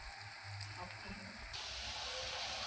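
Green banana and egg kofta frying in hot oil, a quiet, steady sizzle with a few faint clicks that stays low and even throughout.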